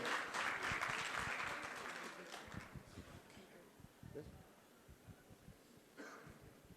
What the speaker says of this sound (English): Can I have a big clap for yourself, please?